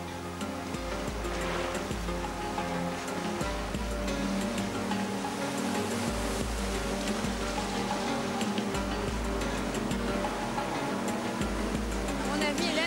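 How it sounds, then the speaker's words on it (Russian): Ocean surf washing in continuously at close range, a broad steady roar with periodic swells and low rumbles, with indistinct voices and what may be a boat engine mixed underneath. "Такие волны."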